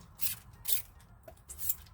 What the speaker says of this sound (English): I just like to spray my bills